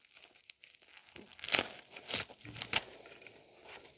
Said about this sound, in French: Petit coup de cutter pour retirer le film plastique, on fait attention à ne pas couper de câble.